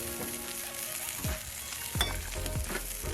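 A ribeye steak sears on a hot Blackstone griddle pressed under a steak weight, giving a steady close sizzle and crackle with a few sharp scraping clicks.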